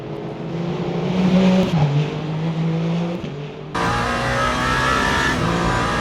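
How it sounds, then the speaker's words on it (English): A race car in Le Mans Ultimate screams down the Mulsanne Straight, its engine holding a loud high drone with rising revs, then a gear change and a brief dip before the roar returns at full strength. "Down the Mulsanne straight once again. We brake for the first chicane."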